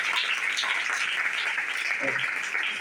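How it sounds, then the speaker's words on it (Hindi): A church congregation claps together at a teaching service, a steady wash of applause at moderate distance, fairly faint and continuous. "परमेश्वर के लिए ताली बजाएंगे।"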